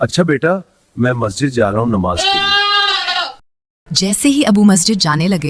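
A pet goat kept at home for Bakra Eid gives one loud, wavering bleat between stretches of someone narrating.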